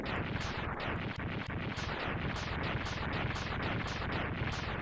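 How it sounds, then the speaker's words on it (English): Rapid, continuous string of synthetic explosions in Mega Man X3, booming one after another in a fast, relentless rhythm. "And then Zero gets to sit through the long explosions."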